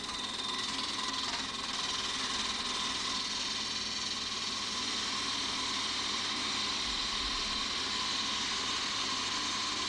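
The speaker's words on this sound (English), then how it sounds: "take the diamond parting tool once again" A wood lathe runs steadily while a diamond parting tool cuts in, a continuous close motor hum with a faint scraping hiss, with no talking.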